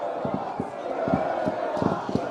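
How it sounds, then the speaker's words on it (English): A crowd at a Sacred Heart v Rostrevor intercollegiate football match chanting for Cooper Allen's kick, giving rhythmic, repeated shouted cheers from many voices at moderate loudness. "Thank you for confirming who kicked it for me with the Cooper cheer"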